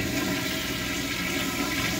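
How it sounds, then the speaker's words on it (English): An American Standard corner toilet in an old college dormitory bathroom flushes slowly, a steady, loud rush of swirling water that holds evenly for the full length without any voices. "They're kind of slow flush."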